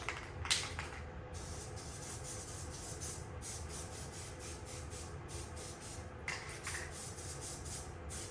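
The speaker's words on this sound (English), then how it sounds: "I'm gonna basically make this a sticker with the spray adhesive." Spray adhesive hisses from an aerosol can in several short bursts, each broken by a brief pause, close and fairly quiet, while it is sprayed onto a craft piece.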